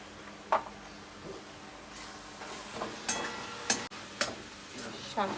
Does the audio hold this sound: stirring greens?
yes